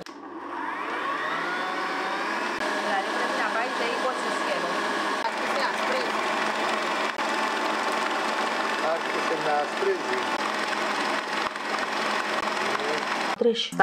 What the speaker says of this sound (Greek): Και θα ξεκινήσω απευθείας με 4 με 5 του μίξερ.